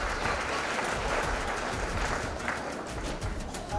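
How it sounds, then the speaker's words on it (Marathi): An audience at a school's annual prize-giving ceremony claps for a student karate gold medallist, a dense, even round of applause that holds steady throughout at a moderate distance. "त्याच्यासाठी एक जोरदार टाळ्या झाल्या पाहिजे।"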